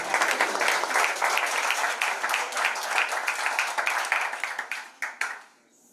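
An audience at a national pitch competition in Burundi claps steadily, with many hands in a brisk, dense patter that thins into a few last claps and stops near the end.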